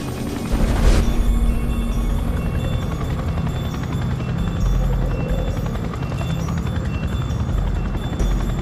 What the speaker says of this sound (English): hear the rotor blades of a large helicopter approaching